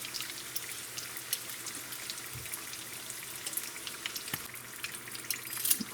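Raccoon egg rolls sizzle in a pan as they brown and crisp on their second side, a steady fine crackle with scattered louder pops, close and without talk.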